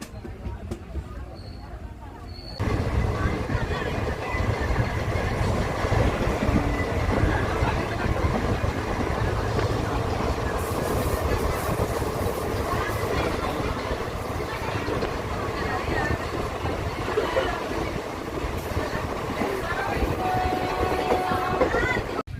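A train on the Kannur to Palani run rolls towards Palani railway station, its steady close rumble and wheel clatter starting abruptly after a quieter opening and holding throughout, with a voice faintly beneath.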